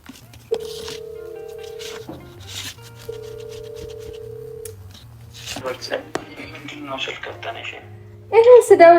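A telephone gives off two long, steady calling tones with short gaps between them, while muffled speech and rustling go on underneath. A louder burst of noise comes in at the end.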